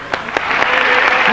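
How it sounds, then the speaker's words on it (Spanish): A studio audience applauds, a few distinct claps at first, then swelling into a fuller burst of clapping within a second and a half. "Estamos aplaudiendo en usted"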